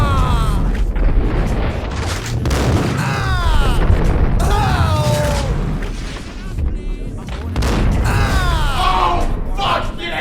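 Max Payne 3 gunfire bursts out in heavy booming shots and rolling blasts, loud and close. Game music and effects sweep through the mix with no clear talk.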